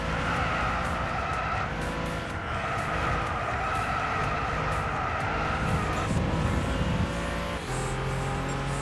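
Racing car driven hard in Gran Turismo 6 on PlayStation 3, a car with a dual-clutch gearbox: a steady, loud engine drone with shifting pitch and tire noise runs throughout, alone with no talk.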